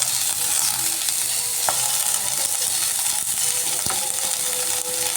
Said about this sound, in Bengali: এবার ফুলকপিগুলো একটু ফ্রাই করে নিচ্ছি